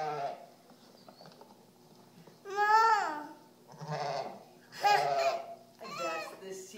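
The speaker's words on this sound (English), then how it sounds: "The sheep says bah." Sheep bleat in a few separate wavering calls spaced over several seconds, moderately close against a quiet background. Faint voices can be heard now and then.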